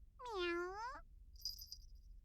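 A human voice imitates a cat's meow in one drawn-out, high mewing call during video game commentary, followed by a brief faint hiss, quiet and close.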